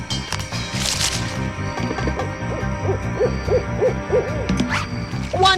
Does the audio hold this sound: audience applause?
no